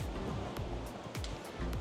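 Ocean waves wash in beside a beach house in Palawan, Philippines, making a soft, continuous surf hiss with a few brief swells, heard faintly and without talk.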